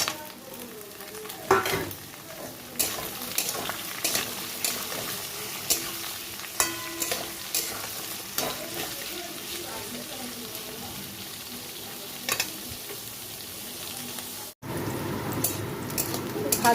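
Onions fry in oil in a pan for chicken rezala, giving a continuous sizzle with scattered scraping stirs, a brief cut in the sound near the end, then the sizzling resumes.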